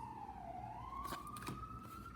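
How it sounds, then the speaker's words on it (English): Police siren wailing in Brooklyn, a steady rising tone held throughout at moderate distance over constant street rumble, with brief louder bursts midway. "Sirens and more Sirens here in Brooklyn"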